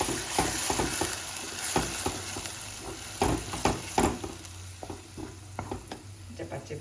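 Tomatoes frying in oil for a vegetable curry, stirred close up in the pan: a steady sizzle runs throughout, broken by irregular scraping strokes of the spoon, with no voices.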